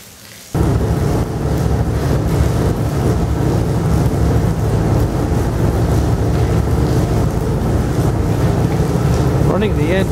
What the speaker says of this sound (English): Running the engine will help circulate the crud inside the engine and get it out.